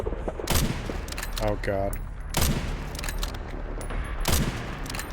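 Rapid gunfire bursts in the survival horror game Resident Evil Requiem, several loud cracking volleys spaced a couple of seconds apart, with a voice reacting briefly between them.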